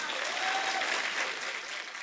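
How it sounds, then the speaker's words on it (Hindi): Studio audience applause on a Hindi comedy talk show, a dense, steady wash of clapping from a crowd that holds at an even level throughout. "ठोको ताली, ठोको ताली"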